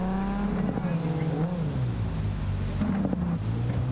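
A car speeding through Night City in Cyberpunk 2077, its engine droning steadily and shifting pitch as it accelerates, close and continuous under someone talking.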